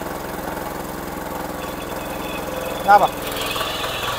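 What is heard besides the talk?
farm machine engine idling, accelerator applied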